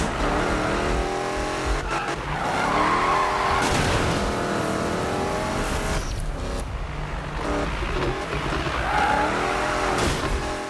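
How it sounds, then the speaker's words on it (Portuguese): A 1965 Ford Mustang Hoonicorn drifting in the video game Need for Speed (2015): a loud, continuous engine roar with shifting revs and tire squeal running throughout, close and steady with no talking. "Ó, que drift delícia."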